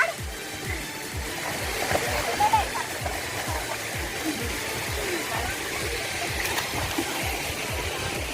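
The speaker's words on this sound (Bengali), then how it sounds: "ও ব্যাগটাও ধুয়ে নিচ্ছে" Water in the Ganges at a bathing ghat splashes in quick repeated slaps and swishes as a bag is washed, close and fairly loud over a running wash of water.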